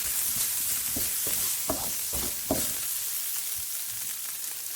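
Fried rice with a spoonful of dark soy sauce is stirred in a hot pan. A steady sizzle runs underneath several distinct scraping stirs in the first half, followed by calmer frying with no voices.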